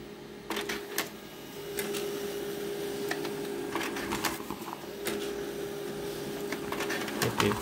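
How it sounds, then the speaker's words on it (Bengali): A printer runs a document job, giving steady mechanical whirring with repeated clicks and short feed bursts at moderate level, with no talk over it. "তো এটি সরাসরি এখানে প্রিন্ট হয়ে যাবে।"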